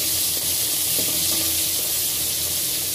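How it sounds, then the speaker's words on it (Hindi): Onions sautéing in hot oil over a high flame for pasta, a steady loud sizzle and hiss throughout with faint stirring scrapes, no voices. "अब यहाँ पे मैं अपना ओनियन डाल दूंगी और इसको हाई फ्लेम पे हमें सॉटे करना है।"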